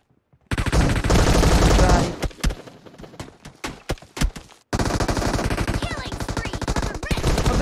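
Gunfire in PUBG Mobile's 4v4 team deathmatch mode: loud sustained automatic bursts, a stretch of sharp single shots, then another long close burst of rapid fire.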